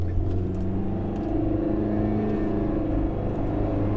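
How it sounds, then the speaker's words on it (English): A Jeep Compass with a CVT transmission accelerates on a test drive, giving a steady, droning engine hum with no gear-shift breaks. The sound is heard from inside the cabin and continues without talk. "I'm accelerating."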